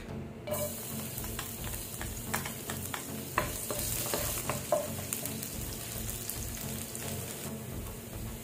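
Garlic frying in oil left over from frying fish, a dense, close sizzle and crackle with scattered pops and stirring scrapes, steady throughout with no talking.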